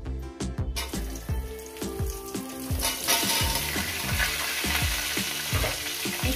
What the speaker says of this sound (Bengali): এবার ওই তেলে দিয়ে দেবো এঁচোড়গুলো।